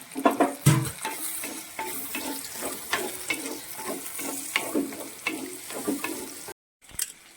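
Green chillies sauté in hot oil in a pan for a kudampuli dish, with a steady sizzle and frequent stirring scrapes. The sound runs close and continuous and cuts out briefly near the end.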